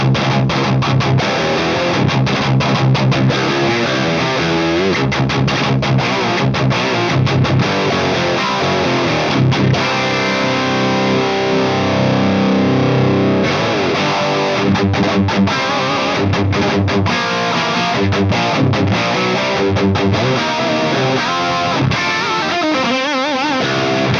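Distorted electric guitar through a Marshall Vintage Modern amp set to high dynamic range with detail maxed, playing loud, aggressive riffs and held chords nonstop for the whole stretch, close and heavily saturated.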